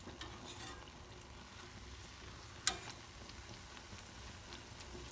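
Bunuelos dough frying in hot oil, a faint, steady crackling sizzle throughout with a single sharp tick or tap midway, quiet and close, no talking.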